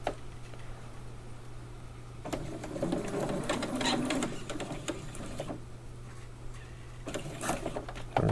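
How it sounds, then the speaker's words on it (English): A home sewing machine stitches a polyester tree stand strap, running in a steady mechanical whir with rapid needle ticking that speeds up and slows in bursts, close and fairly quiet. "otherwise Mom would be very mad and I would owe her a sewing machine."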